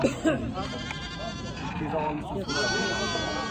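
Goats bleat repeatedly amid a busy Saturday livestock market in Iskra, with voices chattering and overlapping throughout.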